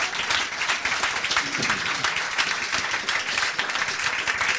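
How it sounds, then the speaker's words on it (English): An audience claps steadily at the close of a live game show, a dense, even patter of many hands lasting several seconds with no talk over it. "Give us a round of applause."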